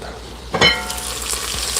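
Cut Brussels sprouts drop into a hot pan, giving a sudden burst of hissing that settles into a steady, close sizzle, with a faint clink at the start and no talk.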